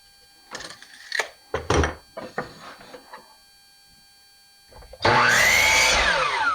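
A power saw bites into a six-inch wood piece to cut a 45-degree bevel, a loud sustained whine rising abruptly after a run of scattered handling knocks and clatter near the blade.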